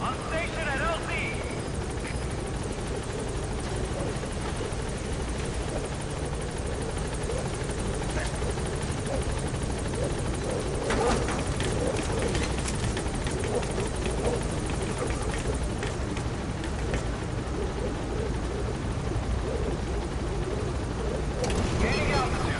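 Pequod, the helicopter in Metal Gear Solid V, thrums steadily and loudly with a dense rotor and engine roar that never lets up, a voice speaking over it.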